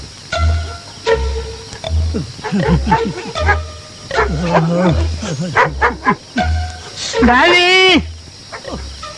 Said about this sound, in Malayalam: ഈ പട്ടി എന്തിനാ അങ്ങനെ കിടന്ന് കുറയ്ക്കുന്നത്?